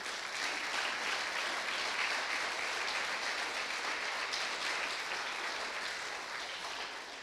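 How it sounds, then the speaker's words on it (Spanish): Congregation at a church service clapping together for God, a steady broadband wash of applause holding at even loudness for several seconds and tapering slightly at the end, with no voices. "Dame un fuerte aplauso a nuestro Dios."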